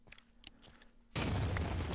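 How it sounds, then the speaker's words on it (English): A Creeper explodes in Minecraft: quiet game clicks and footsteps give way to a sudden loud blast that fills the rest of the moment with a dense, roaring rumble. "a crazy big explosion from Creeper"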